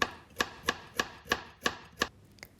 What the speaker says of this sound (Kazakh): Сәбізді де осылай дөңгелек етіп турап шығамыз